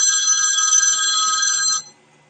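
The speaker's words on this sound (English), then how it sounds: "Harry always has the phone going off." Harry's telephone rings with a bright, steady electronic trill that carries loud and unbroken for almost two seconds, then cuts off sharply, with no talk over it.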